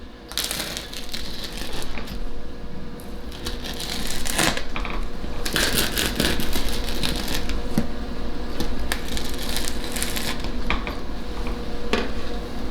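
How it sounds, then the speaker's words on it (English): A pizza cutter rolls through a wild turkey and morel pizza, giving a run of close, busy clatter and crunch. Metallic clicks and scrapes on the pan come in irregular bursts throughout. "So take the pizza cutter here and just give me a couple slices."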